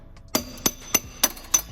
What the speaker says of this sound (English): hammer it off like that.